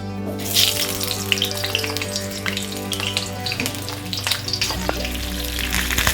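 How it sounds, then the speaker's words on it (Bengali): Potato pieces for niramish aloo dum drop into hot oil, setting off a loud, close, continuous sizzle and bubbling fry with some stirring clatter, no voices. "এবার আমি আলুর পিসগুলোকে তেলে ছাড়বো।"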